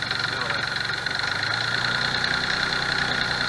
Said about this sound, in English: That's about as much as you can idle it up without having it in gear